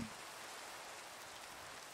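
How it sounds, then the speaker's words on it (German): Steady rain falls in the Minecraft video game, a constant broadband hiss of patter that holds at the same even level for the whole stretch with no voices. "Ich habe mich ja eigentlich über den Regen gefreut, aber kann der auch wieder aufhören?"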